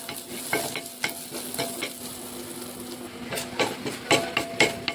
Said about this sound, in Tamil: கொஞ்சம் தேங்காய் குட்டியாக வெட்டி வச்சுருக்கேன், அதை ஃப்ரை பண்ணிடலாம்.